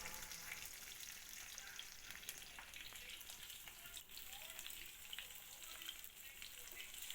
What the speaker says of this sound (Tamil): இப்போ வெங்காயத்தை போட்டுக்கிறோம். வெங்காயத்தை நல்லா வதக்கணும்.